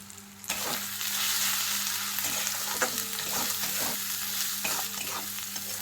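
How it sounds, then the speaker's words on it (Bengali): Turmeric and Kashmiri chili powder frying in a pan, a steady close hiss of sizzling oil with intermittent scraping clicks of a spatula stirring the spices, no voices. "যতক্ষণ না হলুদের গন্ধটা চলে যাচ্ছে ততক্ষণ এটা একটু ভালো করে ভাজা ভাজা করবো"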